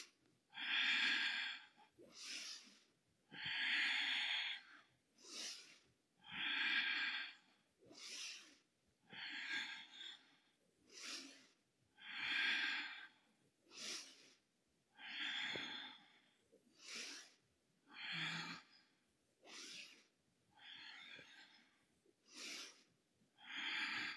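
Breaths in and out during a guided arm-movement breathing exercise: around fifteen close, airy inhales and exhales in a steady alternating rhythm, some longer and louder, others short and sharp.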